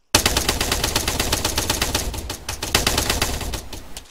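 Sustained automatic gunfire from an airsoft skirmish, a dense rapid stream of loud close bursts running the whole stretch with only brief gaps, no voices over it.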